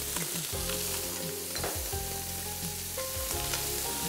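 Hake and prawns fry in a pan as sweet paprika goes in, a steady close sizzle with occasional stirring and scraping underneath and no talk.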